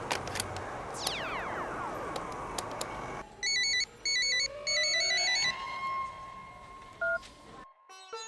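A phone's electronic ringtone sounds in repeated beeping bursts with short gaps, preceded by sweeping synthetic tones and a brief dial tone, clear and fairly loud with no talk.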